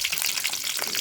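Green chillies and curry leaves fry in hot groundnut oil, giving a close, steady crackling sizzle that holds at one level for about a second with no voices.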